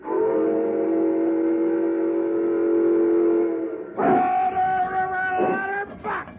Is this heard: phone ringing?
no